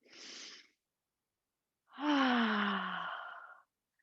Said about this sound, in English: Big breath. One more.